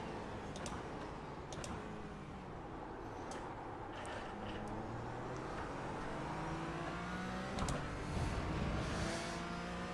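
A Porsche race car engine in an esports racing game drones steadily, with the pitch rising and falling through gear changes and a few sharp ticks, heard alone at moderate level.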